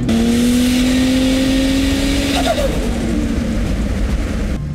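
Holden VL Turbo engine with changed dump pipes revving loudly nearby, a steady rising roar with a falling whine near the middle, a continuous dense exhaust note.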